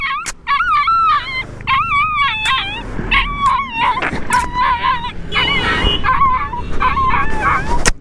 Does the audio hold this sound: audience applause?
no